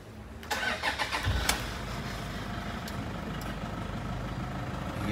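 Toyota Innova V diesel MPV with automatic transmission cranking and starting: a brief starter whir, then the engine catches and settles into a steady, loud, rumbling diesel idle close by.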